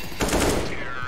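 A burst of AK rifle fire in the video game CS:GO, a rapid automatic volley that is loud and close, running for about half a second before a brief tail.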